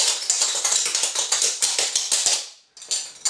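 Clogging dance steps tapping on a hard floor, a rapid, steady run of crisp close taps that stops briefly near the end and then resumes with a few more hits.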